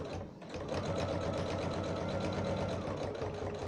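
Sewing machine stitching a makeup bag, starting with a brief back stitch, then a fast, even mechanical whirr with a rapid needle rhythm, close and steady.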